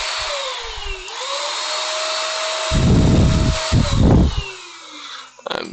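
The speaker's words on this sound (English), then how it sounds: "So I used my vacuum to kill the fly." A vacuum tool whirs steadily in the game Space Engineers, a long hiss with a sliding whine, then two loud rough bursts as it sucks in and kills a fly, ending with a short clatter.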